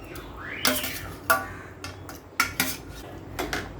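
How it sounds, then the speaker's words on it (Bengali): Fried catla fish is turned in spice paste in a pan, with a series of sharp metal clinks and scrapes from a spatula against the pan, spaced irregularly over a faint background. "যে মাছগুলো আমি ভেজে রেখেছিলাম, সেই মাছগুলো এখন এই মশলার ভেতরে আমি কষিয়ে নেব"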